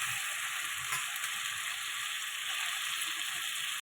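Moringa drumsticks fry with salt and turmeric in a pan, giving a steady, even hiss of sizzling oil close by that cuts off abruptly just before the end.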